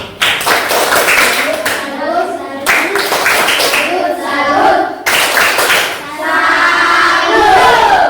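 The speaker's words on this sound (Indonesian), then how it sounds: "tepuk salut untuk semua" A school class claps together in a patterned rhythmic cheer, with bursts of hand claps in several short phrases, accompanied by children's voices chanting along.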